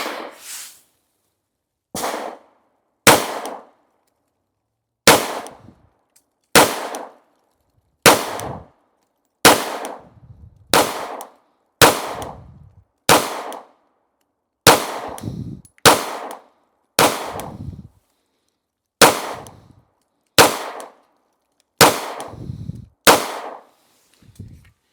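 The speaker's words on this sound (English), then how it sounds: "Let's keep shooting. We've got 10 more rounds in the factory." Repeated gunshots from a Glock 43x pistol fired with factory magazines, about fifteen sharp, loud reports spaced one to two seconds apart with brief pauses, no talking between them.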